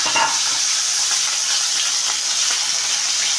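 Chopped tomato hits spices already fried in hot oil, giving a loud, steady sizzle and hiss that carries on unbroken throughout, with no talk over it.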